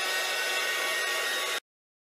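A hair dryer blows hard and steady on acrylic paint on canvas, running loud and close for about a second and a half before cutting off abruptly into silence.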